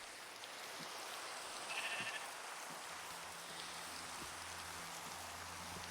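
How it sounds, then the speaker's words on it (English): Sheep bleating in the Minecraft video game, a short wavering bleat around the two-second mark over a steady rain-like hiss, with faint scattered game sounds. "in amongst the sheep."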